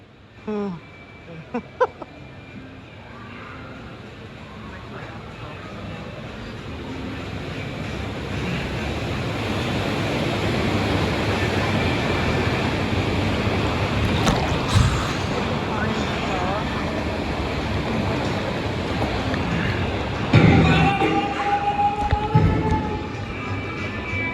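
Water churning and surging in the Volcano Bay waterpark wave pool, a steady broad wash with splashes building and swelling later, people talking and shouting over it.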